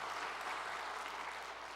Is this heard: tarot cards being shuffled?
no